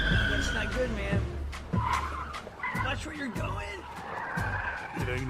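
Car tires skid and squeal in short repeated bursts during a tire shop advert, close and loud, interleaved with animated talking voices playing over them.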